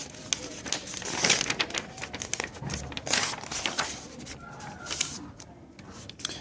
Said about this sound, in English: let's actually go ahead and fold this paper in half